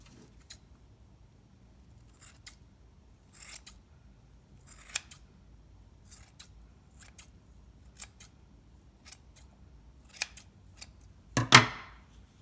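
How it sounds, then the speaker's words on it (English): Scissors trim yarn on a handmade pom pom, giving a steady series of quiet, crisp snips spaced a second or so apart, with a louder, fuller cut near the end. "And then I'm going to trim it so all the yarn are approximately the same size."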